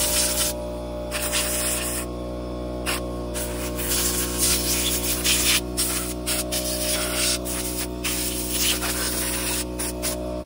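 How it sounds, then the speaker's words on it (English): WD-40-style penetrating oil sprays in a continuous loud aerosol hiss onto the bolts of a Troy-Bilt rototiller, with short breaks between spurts and a steady machine hum underneath. "I'm gonna take this, which is like a strong WD-40, and spray it on everything."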